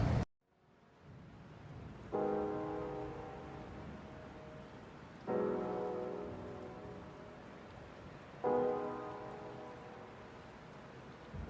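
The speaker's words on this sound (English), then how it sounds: "So it started to rain," Rain falls steadily as a soft, even hiss during outdoor work on a car. Gentle swells of heavier patter arrive every few seconds, with no talking.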